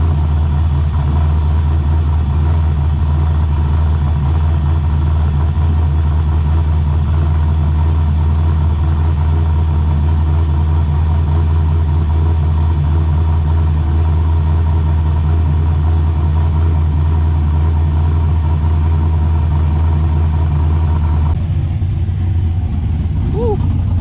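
A cammed LS V8 in a Z28 Camaro drones loudly and steadily from inside the car during a drive, a deep constant rumble that drops off abruptly near the end.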